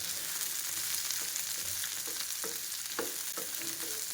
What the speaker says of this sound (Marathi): आपण मोठा चिरलेला जो कांदा होता तो कांदा आणि शिमला मिरची थोडी तेलामध्ये फ्राय करून घ्यायची आहे